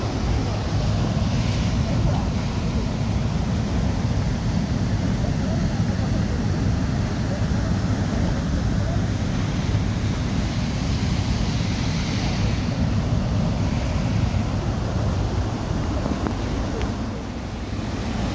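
Broad, continuous roar of water rushing through an opened gate, loud and unbroken for the full length, mixed with wind buffeting the microphone.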